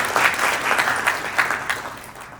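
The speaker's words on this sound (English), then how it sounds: "For that, I think ladies and gentlemen, it deserves a round of applause." Audience applause fills a business council gathering of Indian American and Indian consulate guests in Chicago, a steady dense patter of many hands clapping at moderate loudness with no talk over it.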